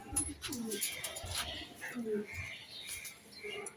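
Budapest racing pigeons cooing in repeated low throaty coos, close by, with someone talking over them and faint chirps in the background.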